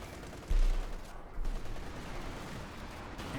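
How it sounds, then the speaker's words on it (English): Artillery fire in the World War II strategy game Company of Heroes 2, an incendiary barrage landing as a muffled thump followed by a dense, rumbling crackle of explosions and gunfire that stays low and distant, with no voices. "And we got artillery fire there"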